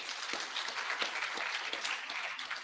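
Crowd clapping for First Lady Margaret Kenyatta at an International Women's Day celebration, a steady, fairly distant wash of applause heard alone.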